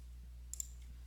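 Two quick, crisp computer mouse clicks, close and isolated against a quiet background hum.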